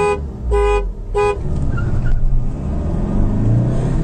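Three short car horn toots start a drag race between a Honda WR-V and a Hyundai Creta diesel, followed by engines revving hard and cars accelerating away with a rising roar.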